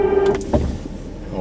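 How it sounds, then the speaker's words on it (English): The winch on a truck fitted with a Detail K2 Avalanche snow plow kit runs briefly with a short electric motor whine that stops in under a second, followed by a faint clunk, close by. "Bring the winch in."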